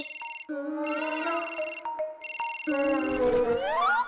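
A mobile phone ringtone plays loudly and close, a bright electronic melody repeating in short phrases, with a sliding tone near the end.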